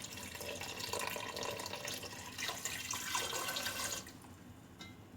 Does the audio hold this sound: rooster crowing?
no